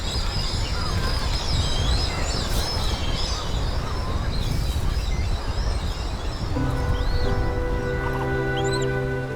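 Seabirds flocking back to nests on a remote island, a dense continuous wash of squeaky chirps and chatter, loud and close, with a few distinct calls rising above the din.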